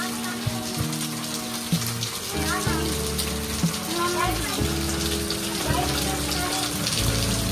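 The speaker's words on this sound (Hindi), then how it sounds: "बारिश पड़नी शुरू हो गई और देखो चश्मे में पानी लगा, बहुत तेज बारिश आई है।" Heavy rain pouring down outdoors, a dense continuous patter and splash on surfaces, with indistinct voices and other tonal sounds faintly mixed in.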